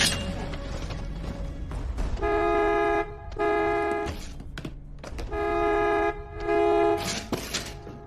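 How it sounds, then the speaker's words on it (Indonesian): A car horn outside honks in several long blasts with short gaps between them, loud and close, over a rumbling background. "Suara klakson mobil di luar sana menyadarkan Broker yang masih saja berkemas di dalam rumahnya"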